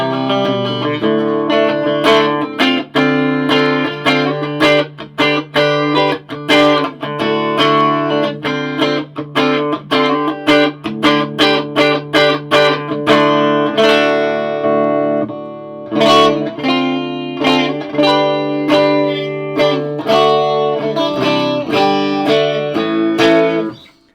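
Electric guitar played through a Laney VC15 valve combo amp with the reverb set low, bright switch engaged, ringing chords and picked notes sustaining steadily for the whole stretch with no talking.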